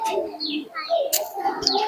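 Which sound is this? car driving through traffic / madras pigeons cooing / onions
madras pigeons cooing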